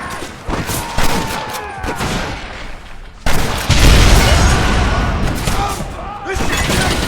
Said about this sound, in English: You man the Gatling gun